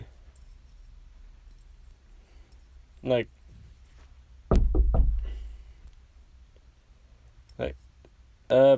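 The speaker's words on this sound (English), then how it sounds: "And then the door knocks." Knocks on a door come in short sharp clusters, with one loud group of raps in the middle and quieter single knocks around it, separated by silence.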